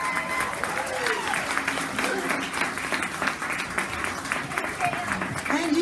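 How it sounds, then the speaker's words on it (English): Steady audience applause for a singer at a variety concert, many hands clapping evenly throughout at moderate loudness, with murmurs of the crowd underneath. "Big hands for Cale."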